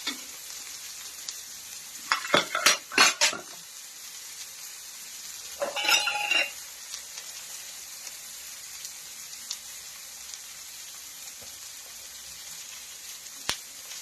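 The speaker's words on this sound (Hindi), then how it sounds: "तो इसे हमें हल्की सी सौटे करनी है।" Onion sizzles softly as it sautés in a pan throughout, broken by two short bursts of stirring and scraping, with a faint clink near the end.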